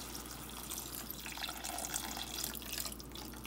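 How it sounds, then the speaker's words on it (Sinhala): Water is poured into a soup pot over mushrooms as a steady, fairly faint splashing stream heard up close for a few seconds, with no speech. "දැන් අපි මේ අපේ සුප් එකට වතුර එකතු කරගන්න යන්නේ. මෂරූම් ටික වැහෙනතේ වතුර දාගන්නවා අපි මේ විදිහට."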